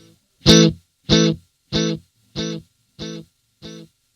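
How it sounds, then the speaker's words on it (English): Long echo setting on a Reverberry effects pedal: one sharp note followed by five evenly spaced repeats, each slightly quieter than the last, with silence between them. "It's a long echo."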